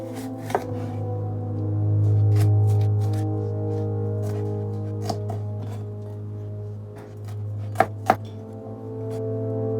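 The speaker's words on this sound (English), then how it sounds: "As you can see, I've gone with quite a coarse chop here." Knife chopping red pepper on a cutting board, a handful of sharp, sparse taps over a steady low hum, close and clear.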